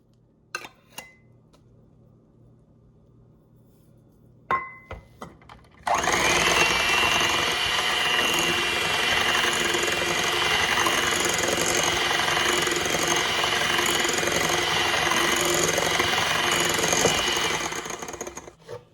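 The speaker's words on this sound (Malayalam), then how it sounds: "ഇനി ഇതിലേക്ക് ബട്ടർ ചേർത്ത് നന്നായിട്ട് ബീറ്റ് ചെയ്തെടുക്കാം" An electric mixer beats butter into cake batter for a coconut banana walnut cake, running as a steady, loud, continuous whir for about twelve seconds after a few light clinks.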